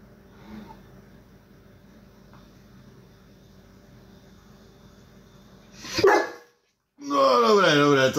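A dog whines and vocalises briefly near the end after a long quiet stretch with faint background hum, followed by a loud burst of voice.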